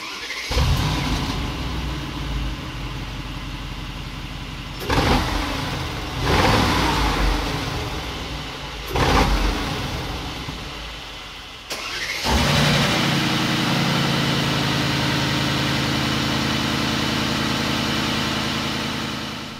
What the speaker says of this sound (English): Amazing sound of this V8 biturbo